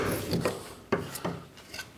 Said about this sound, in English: I'll just put a little chamfer on the end